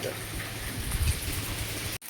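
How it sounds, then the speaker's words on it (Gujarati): Steady rain patters down as a continuous hiss, with a low rumble underneath and a brief dropout near the end. "પાછો વરસાદ ચાલુ થયો હે"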